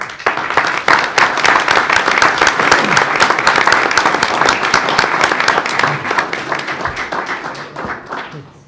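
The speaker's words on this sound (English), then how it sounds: "you can applaud when I call their names" Loud, sustained applause at a school board meeting for student award winners, a dense crowd of many hands clapping rapidly and fading toward the end.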